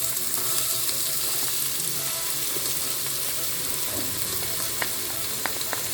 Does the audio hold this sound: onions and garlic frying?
yes